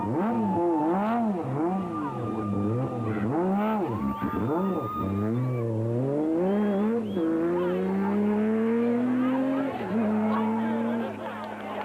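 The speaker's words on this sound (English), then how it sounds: "Neil Woolrich and Ken Scholthammer were next in the Team Ford Racing Ranger." Team Ford Racing Ranger race car driving at speed during a Toyota 1000 2004 race, its engine revving and shifting in rising and falling sweeps, loud and continuous with a narrator talking over it.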